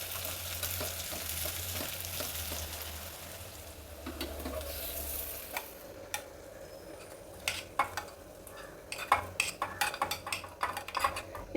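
A sizzling tempering of oil, curry leaves, asafoetida and onion is poured into mango dal, with a soft hiss and scattered clinks and scrapes from a pot and spoon nearby.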